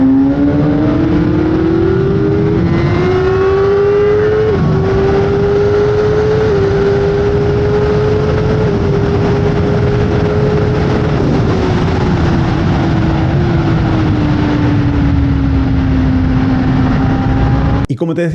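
A MotoGP racing motorcycle holds a loud, close engine note while accelerating at speed. The rising pitch climbs through repeated gear changes and carries on continuously for the whole stretch.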